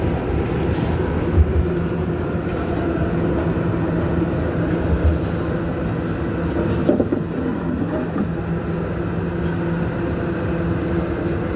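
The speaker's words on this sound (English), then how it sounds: "This is a Bedford Park Boulevard bound B local train." A New York City Subway R211A car on the B line runs along the track, a loud, steady low rumble with rattling wheel noise and occasional clunks, heard from inside the car with no one talking.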